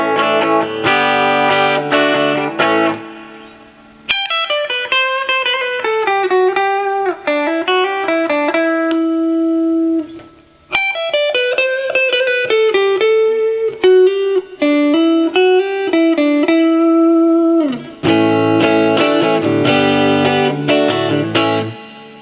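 Electric guitar through a Peavey Bandit amplifier with its reverb switched on, playing sustained chords and melodic bends that ring out with a lingering tail. It is loud and clear, with no talking.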